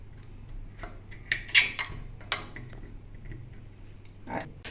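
A knife taps and clicks against a cutting surface while both sides are trimmed off an ingredient for a homemade hair remedy: several crisp, close ticks and small clacks, unevenly spaced.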